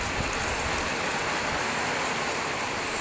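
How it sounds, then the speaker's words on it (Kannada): A downpour of heavy rain in a village, an unbroken hissing roar that stays even throughout. "ಮಳೆಯಲ್ಲಿ ಎಷ್ಟು ಹುಯ್ತಾ ಇದೆ ನೋಡಿ ಗೈಸ್"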